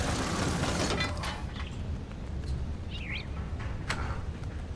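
Bird chirps in the game Myst IV: Revelation: a few brief, faint tweets rise above a steady low ambient hum, scattered over a few seconds without talk.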